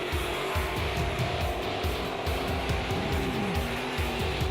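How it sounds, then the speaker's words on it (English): A race car circles the track during a hot lap session. Its engine roars steadily and loudly throughout with a continuous mechanical drone, heard at mid distance with no speech. "making his first laps in the new car during the hot lap session."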